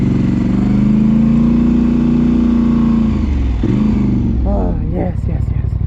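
A Polaris Sportsman ATV engine drones steadily over dirt piles, holding a smooth moderate throttle that dips near the end into bumpier, uneven running, loud and close with people talking over it.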